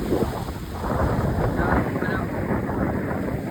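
Strong wind roars and buffets the microphone in a steady, loud rush throughout, on a beach during fishing.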